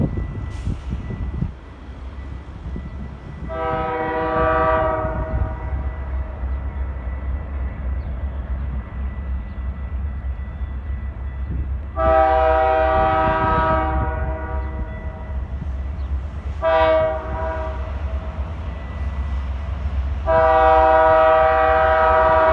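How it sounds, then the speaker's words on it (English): CP Rail freight train 281 approaches near Elmwood Park, bound for the Twin Cities from Bensenville, its locomotive horn sounding in four loud blasts over a steady deep engine rumble and rolling rail noise, with no talking. "CP Rail Train 281 to the Twin Cities from Bensenville approaches."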